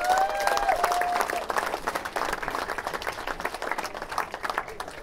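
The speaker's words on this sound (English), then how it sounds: "Can we all have a round of applause for an amazing ceremony?" Wedding guests applaud after the ceremony, a steady crowd of clapping hands that starts loud and thins slightly toward the end, with a brief whoop or voice near the start.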